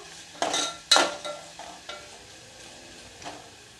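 Chopped onions stirred in a hot pan for an Udupi-style sambar tempering: a few sharp scraping stirs ring out over a soft, steady sizzle, then fade to quieter frying, with no voices.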